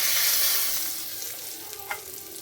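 Bay leaf, dried red chillies and whole garam masala sizzle and are stirred in hot oil for a vegetarian pointed gourd and paneer korma; a steady, fairly loud fry that eases slightly, with one light scrape near the end and no talking.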